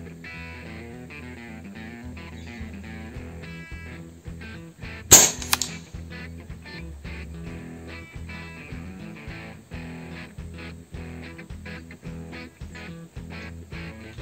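An air rifle fitted with an LW barrel fires a single sharp shot during grouping tests, a brief loud crack midway through an otherwise steady background of music.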